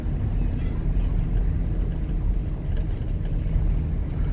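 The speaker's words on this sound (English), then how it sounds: "this is definitely a higher traffic road" Steady broadband road rumble heard from inside a moving U-Haul truck on a busier road, with engine and tire noise continuous throughout and faint swells of other vehicles passing nearby.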